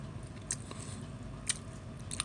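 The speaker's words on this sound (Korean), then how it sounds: "우리 행복이 저녁 잡수시는 거예요." A pet eats its dinner close by, with quiet wet chewing and a few sharp crunchy bites spaced about a second apart over low background noise.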